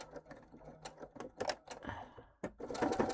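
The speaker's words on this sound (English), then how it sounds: "I'm just stitching them on at 1/8 of an inch so that they will be inside the seam allowance" A home sewing machine stitches fabric tabs in short runs of rapid mechanical clatter, stopping and restarting, with a louder, steadier run of stitching at the end.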